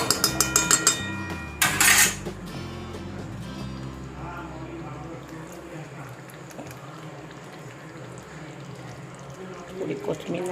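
Soybean chunk curry being stirred in a pan: a sharp metallic clatter of a spoon against the pan early on, then a steady low background of soft stirring and sizzling that continues to the end, with a few light scrapes at the close.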